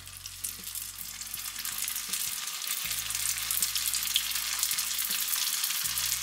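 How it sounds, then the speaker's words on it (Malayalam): Cauliflower pieces deep-frying a second time in very hot oil over a high flame, a steady dense sizzle and crackle with low bubbling pulses, fairly close and continuous with no voices. "ഇനി ഇത് ക്രിസ്പി ആവുന്നത് വരെ നമ്മൾ ഫ്രൈ ചെയ്യുകയാണ് ചെയ്യുന്നത്"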